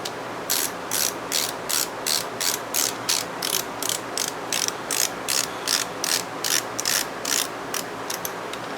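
Ratchet-like clicking as screws are tightened on a G-Made Sawback RC crawler: roughly twenty crisp, evenly spaced clicks in a steady rhythm, close and moderately loud, with no talking.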